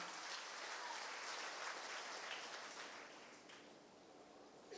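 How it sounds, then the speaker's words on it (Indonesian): A large church congregation at an Easter service breaks into loud, continuous applause, a dense rain-like wash of many hands that stays full throughout and tapers off a little near the end. "Yang sujud berikan tepuk tangan yang meriah."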